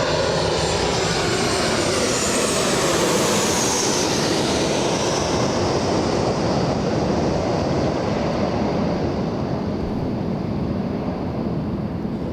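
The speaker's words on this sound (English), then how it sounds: "we have this one flying in from San Francisco. We have a 53-minute flight for this one, a 737 NG" A Boeing 737 NG airliner arriving from San Francisco roars past loud and close, its broadband jet engine noise holding steady with a whining tone that sweeps downward as it passes.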